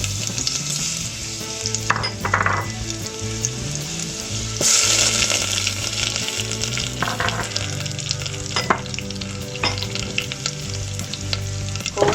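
Ginger and garlic frying in hot oil, with a steady loud sizzle and occasional stirring scrapes throughout, and no talking.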